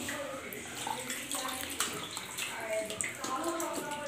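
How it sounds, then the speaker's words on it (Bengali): Running water from a tap splashing steadily while mutton is rinsed by hand, a continuous close wash of water with faint background sounds and no clear talk. "জল দিয়ে, ভালো করে ধুয়ে রাখি মাংসটা।"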